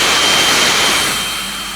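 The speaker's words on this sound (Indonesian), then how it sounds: "jadi kalian udah dengar sendiri kalau emang suara kipasnya itu kurang banget" Loud, continuous whooshing roar from the cooling fan of a GPD Win Mini 2025 handheld gaming laptop, heard up close with no talk and easing slightly toward the end.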